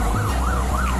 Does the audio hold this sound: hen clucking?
no